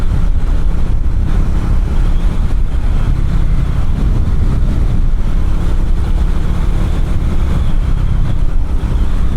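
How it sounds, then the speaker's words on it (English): Strong wind buffets the microphone on a hilltop during a rainy motorcycle gravel ride, a loud, continuous roar with a low engine rumble underneath and no talking. "Oh, it's windy up here."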